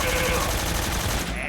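Rapid automatic AK rifle fire in Metal Gear Solid 3, a dense burst of shots packed together, loud and continuous for a moment.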